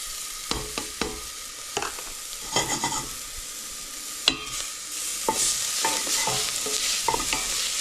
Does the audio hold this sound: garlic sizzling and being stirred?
yes